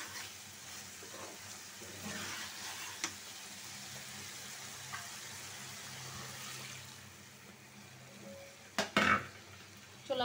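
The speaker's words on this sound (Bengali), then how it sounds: "এখন পানি এড করব।" Water is poured into fried katla fish cooking down in a bhuna-style curry; a low, quiet simmer and stir gives way to a sharp, loud hiss and splash near the end.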